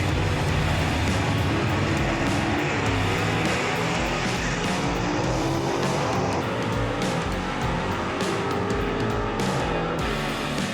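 Gasser-class drag race cars roar down the strip in a continuous, loud engine blast, with dense broadband rumble that stays steady throughout.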